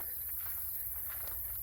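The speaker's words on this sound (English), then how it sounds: "Yeah, crickets." Crickets chirr steadily in a mowed orchard path on a dry July day, a continuous high, faint drone with soft footsteps brushing through grass underneath.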